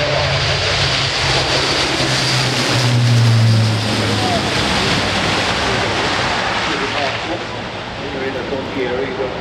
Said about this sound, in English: A380.